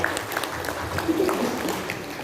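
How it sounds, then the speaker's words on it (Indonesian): Brief burst of audience applause at a cooperative's annual meeting, a muffled, diffuse clatter of hands in a room, with some faint background murmur beneath. "Tepuk tangan dulu untuk beliau."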